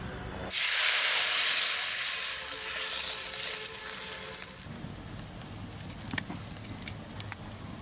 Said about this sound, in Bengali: জলটা ফুটে গেছে